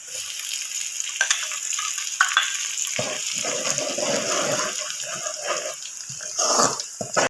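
Garlic tossed into browning onions in a hot pan for a mixed vegetable dish, giving a close, steady sizzle and crackle with occasional sharper spits and stirring clatter.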